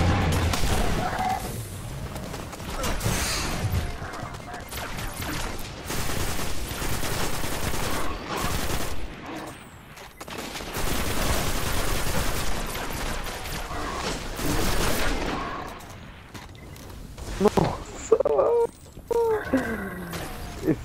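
Gunfire in Destiny, with bursts of rapid shots and heavy booms that come in dense waves, drop away in brief lulls, then return, loud and close throughout.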